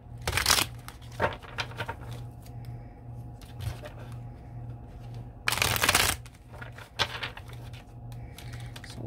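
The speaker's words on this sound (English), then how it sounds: "So for the feminine, I'm going to use the Tarot de la Nuit deck." A tarot deck, the Tarot de la Nuit, being shuffled by hand close up: repeated crisp riffling bursts and soft card slaps at irregular intervals over a low steady hum.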